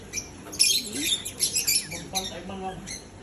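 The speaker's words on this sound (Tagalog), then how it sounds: "Parrot. Parrot. So many birds." Pet parrots giving short squawks and chirps in a rapid scattered cluster, moderately close, over a faint background.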